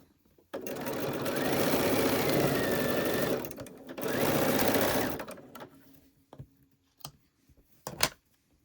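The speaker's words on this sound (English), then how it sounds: "press away from the fold, and then sew the right side" A sewing machine stitches a quilt block seam in two bursts of steady, rapid whirring, each lasting a few seconds, followed by a few short taps and clicks, close by, with no speech.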